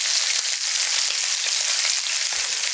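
Steak sears in a hot cast iron pan, a loud, dense, unbroken hiss of fat crackling right up close, steady for the whole stretch with faint pops and no voices.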